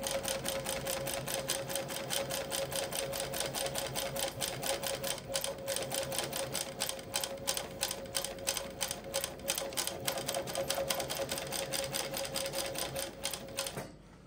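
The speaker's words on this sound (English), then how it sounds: "We are sewing on heavy fabric such as leather right now." A Global WF35 cylinder-arm walking-foot sewing machine with needle feed stitches heavy leather, producing a fast, steady run of regular mechanical clacks over a constant motor hum that stops abruptly at the end.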